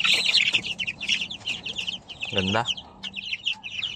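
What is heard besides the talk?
chickens, hens clucking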